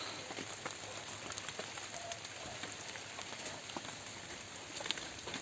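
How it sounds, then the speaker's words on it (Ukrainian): Rain falls steadily on a greenhouse, a dense even patter with scattered louder drops, fairly faint and continuous with no voices. "треба ховатися, бо дійсно дощ"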